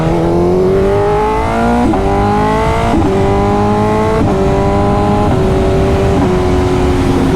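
A 2025 BMW S1000RR sport bike revs hard and loud, its engine note climbing and then dropping in sharp downshift blips roughly every second, steady and close throughout.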